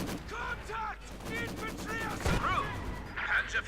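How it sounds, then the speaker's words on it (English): A mine detonates in Company of Heroes 2 during a 2v2 match, a sharp blast with a burst of debris amid ongoing battle noise and gunfire, while a commentator talks over it throughout. "Mine went off there."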